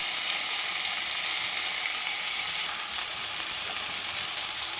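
Brinjal pieces with a little turmeric sizzle steadily in hot oil in a pan, a close, continuous hissing crackle with no pauses and no talking.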